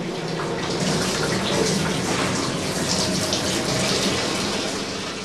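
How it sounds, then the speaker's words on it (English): Hot wax-water mixture from heathland beeswax rendering pours steadily into a wooden tub through a filter cloth, a continuous close gushing splash without pause or voices. "the hot wax-water mixture runs into a wooden tub"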